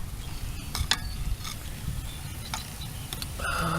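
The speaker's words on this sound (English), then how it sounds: "I'm gonna stick a screwdriver under here and see if I can't drive it out." A screwdriver prying at a front brake pad on a 2006 Suzuki Aerio gives a few quiet metallic clicks and scrapes, close up over low background noise.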